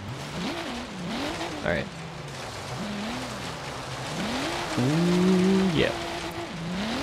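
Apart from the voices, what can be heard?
Subaru BRZ car drifting in video game Forza Horizon 3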